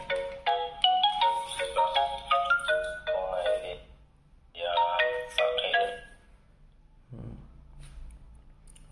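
A ringtone melody plays through the small speaker of an A75 smartwatch, with bright tonal bursts in two phrases and a short pause between them, followed by a faint rustle.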